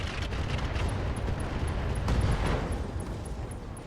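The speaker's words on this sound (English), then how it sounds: "Gauss Rifle Explosion, left torso destruction." A Gauss rifle explosion in the video game RogueTech, a loud, sustained roaring blast with a deep rumble and a brief sharper burst partway through, plus faint high electronic beeps, with no speech.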